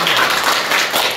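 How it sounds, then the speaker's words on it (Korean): Audience applause at a network marketing business meeting in Korea: dense, steady clapping from many hands, fairly loud and continuous for the whole moment, with no voices over it. "이 기회를 드려서 우리 감사랑 박수 한번"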